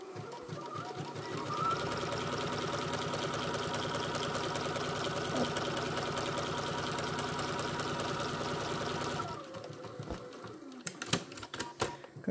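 Bernina sewing machine stitching a wide, tightly packed zigzag, a rapid steady mechanical whirring and ticking that runs for about nine seconds, then stops, followed by a few scattered clicks and handling sounds.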